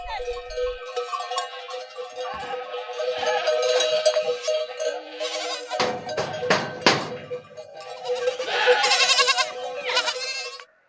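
Mother goats and their kids bleat back and forth inside a farm shed, with many overlapping calls near and far and cowbells clanking among them.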